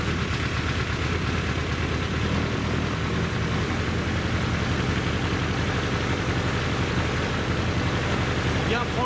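A Suzuki GSX-F 1100 motorcycle engine runs at a steady idle during carburetor synchronization and mixture adjustment, giving a loud, even, rough mechanical rumble that holds unchanged throughout.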